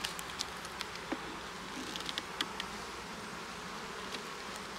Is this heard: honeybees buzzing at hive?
yes